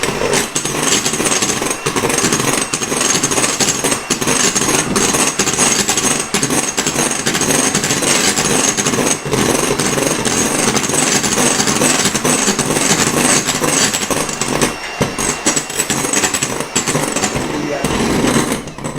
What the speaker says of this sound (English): you can use a mixer as long as it's got a whisk attachment.